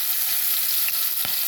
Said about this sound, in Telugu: పచ్చిమిరపకాయలు వేసేద్దాం